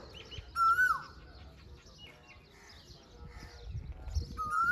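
A koel calls with sharp, rising and falling whistled notes, a few repeated phrases over quiet outdoor background with faint voices.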